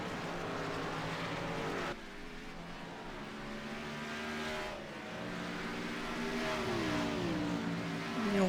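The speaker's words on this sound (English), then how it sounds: "You hear them cars flying by" Engines roaring and revving as race cars speed past at a distance up a hill in the iRacing simulator, pitch rising and falling in a continuous, fairly quiet drone.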